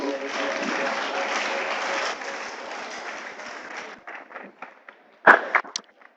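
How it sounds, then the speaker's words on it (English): Applause for a pastor at a mentorship and career development talk in Accra, Ghana: dense clapping from an indoor audience for about four seconds, then thinning to scattered claps with a few louder nearby ones. "you can give him a round of applause."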